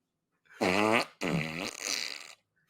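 Two long, loud, buzzing farts in quick succession, close and with no talk over them.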